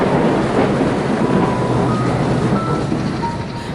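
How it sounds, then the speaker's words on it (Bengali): A train slowly begins to move during heavy rain, a continuous low mechanical rumble and rattle with faint tonal squeals, steady and fairly loud throughout. "প্রায় 3 ঘন্টা ধরে ট্রেনের মধ্যে অপেক্ষা করার পর ট্রেনটা আস্তে আস্তে চলতে শুরু করল।"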